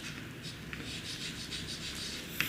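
Chalk or marker writing numbers on a classroom board, a run of quick rhythmic scratchy strokes close by, ending in a sharper tap, with no talking.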